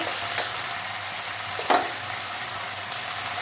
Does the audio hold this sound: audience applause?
no